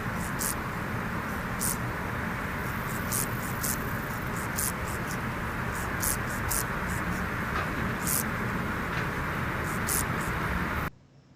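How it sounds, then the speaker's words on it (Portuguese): A second grasshopper of the family Crigidae stridulates over a constant noisy background, producing sharp, high-pitched chirp bursts repeated at irregular intervals for about ten seconds, with no talk. "E agora o som desse segundo gafanhoto."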